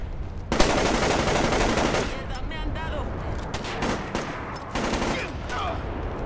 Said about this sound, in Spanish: Voy a intentar dispararle aquí.